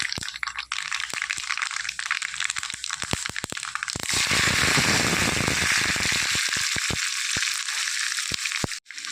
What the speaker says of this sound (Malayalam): കടുക് ഉലുവയൊന്ന് ഒന്ന് പൊട്ടി വരട്ടെ പൊക്കി വരാൻ തുടങ്ങിയിട്ടുണ്ട്